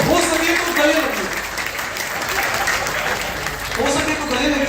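Hall audience at a wellness lecture claps in a thick, sustained roar of hand-clapping, with someone talking over it at the opening and again as it continues toward the close.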